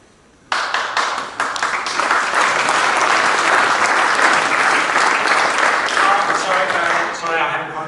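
An audience at a systems science conference session in Vienna breaks into sudden, sustained applause, a dense roar of clapping that holds for several seconds before a speaker's voice cuts in as it dies down.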